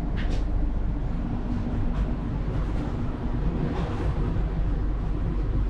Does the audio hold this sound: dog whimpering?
no